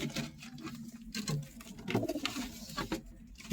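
Pigeons cooing and shuffling near their nest among young birds, low soft coos and rustling patter at close range, moderately loud and continuous without speech.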